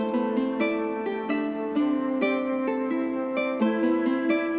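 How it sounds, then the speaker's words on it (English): A plucked guitar melody in a rap beat repeats in a bouncy, rhythmic pattern over a steady beat, bright and continuous without any talking. "With the guitar, it sounds like this."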